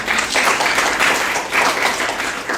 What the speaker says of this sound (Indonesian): Tepuk tangan untuk semuanya yang telah mempresentasikan hari ini